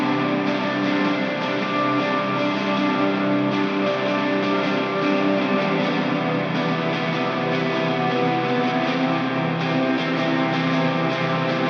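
An electric guitar strums two shoegaze chords through heavy effects, a dense, distorted wash with echo and chorus that holds steady and loud for the whole stretch with no voice over it.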